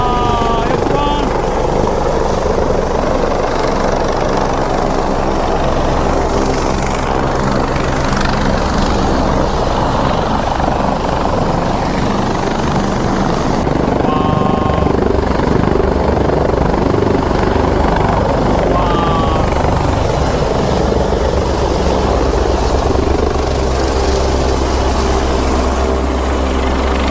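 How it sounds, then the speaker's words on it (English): A helicopter's steady rotor thrum and engine whine fill the scene at Tai Mei Tuk, Hong Kong, loud and continuous, as it comes in close to set down. "Helicopter, as you can see, it's going to land here."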